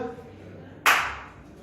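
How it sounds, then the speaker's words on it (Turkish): A single sharp burst of hand clapping from a small group, loud and brief, rising suddenly after quiet talk and trailing off within about half a second. "bir alkış yap"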